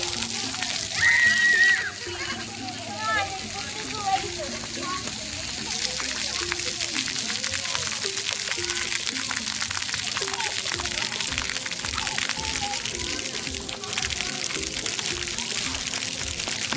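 Water splashing and sloshing as a child plays in it, with children's voices and an adult talking over the splashes throughout.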